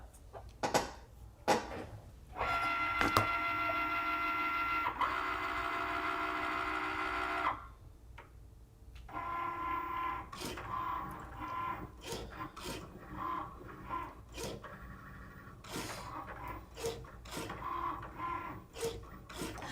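A Cricut cutting machine drives its foiling tip across a card, with mechanical whirring and rasping passes, a steady motor drone, a brief pause, then renewed stop-and-start scraping strokes.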